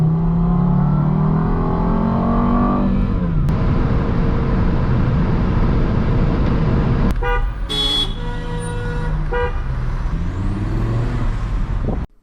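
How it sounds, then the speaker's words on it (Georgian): A Volvo S60 R engine revving loudly up close, its pitch sweeping up and settling into a sustained roar, with a brief sharp tonal burst partway through and the sound cutting off abruptly at the end. "თქვენ თუ შეიძენთ Volvos, მართლა შეიძლება ამ მანქანას ჰქონდეს დაახლოებით Lamborghini-ის ხმა."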